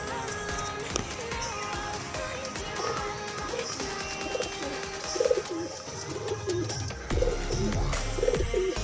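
Soft pigeon cooing rises repeatedly among several birds in a breeding loft of fancy blue-beaked pigeons, with faint handling and background noises underneath.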